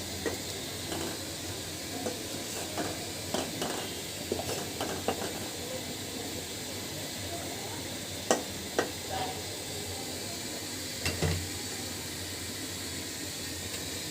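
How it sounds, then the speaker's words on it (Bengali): Fish being mixed with spices in a hot pan, a steady soft sizzle and hiss with scattered scraping and stirring clicks, close and fairly quiet throughout. "মাছ এবং মশলাটা খুব সুন্দর করে মিশিয়ে নেব।"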